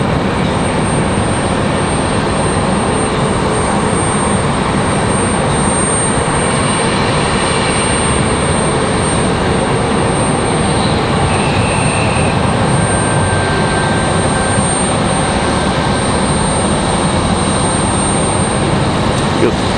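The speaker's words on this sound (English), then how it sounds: "It looks like we've got another A321 from American Airlines." American Airlines Airbus A321 jet at Raleigh Durham airport during a storm, a loud, continuous engine roar that holds steady throughout, with a voice talking over it.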